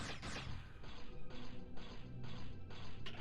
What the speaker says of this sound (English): I can shoot them through the door.